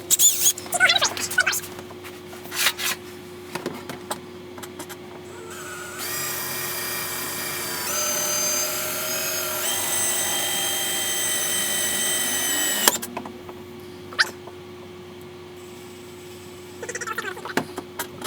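A Harbor Freight drill bit bores into metal while a hitch is installed on a 2014 Chevy Equinox, a steady high whine lasting several seconds between clanks and handling noises.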